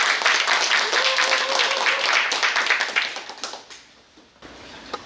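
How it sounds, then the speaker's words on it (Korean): Loud audience applause at a Korean book launch event, dense clapping that fades out over the last seconds, with a faint voice briefly audible beneath. "힘찬 박수로 모시겠습니다."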